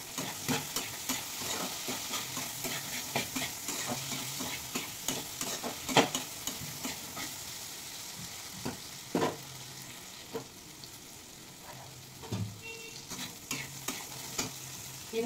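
Chili and shrimp being stir-fried in a pan, with steady sizzling and a string of sharp spatula scrapes and clacks against the metal, fairly close and without any voice.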